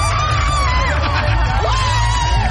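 A crowd whoops, yells and cheers in a dense, continuous burst while people wait to see an eclipse, with babbling voices mixed into the noise.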